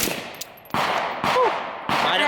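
A PWS MK116 MOD2 AR15 rifle in 7.62x39 fires three sharp, loud shots outdoors at an uneven pace, each with a short ringing tail.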